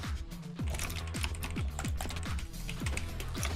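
Fingers tap rapidly on a computer keyboard with a sticky W key during Minecraft play, a dense run of clicky keystrokes over a thumping beat of background game music, with no talking.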